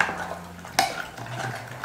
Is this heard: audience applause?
no